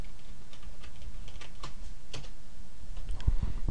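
Password being typed on a computer keyboard at a desk while a virtual machine starts up, heard as a run of soft, irregular key clicks over a low steady hum, with a couple of heavier taps near the end.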